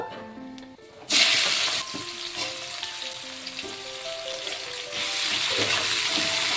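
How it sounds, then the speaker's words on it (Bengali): Onions frying in oil with bay leaves and whole garam masala, for a mutton dish: a hiss that jumps in loudness once the onions drop in, then keeps sizzling steadily over a faint background tone. "পেঁয়াজটিকে একটু নরম করে আমি ভেজে নেব"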